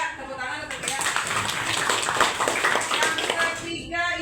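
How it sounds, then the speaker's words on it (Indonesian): A sixth-grade class claps for a student in a classroom, a dense burst of many hands lasting a few seconds, fairly close and tapering at the end as a voice begins. "Tepuk tangan untuk Dea."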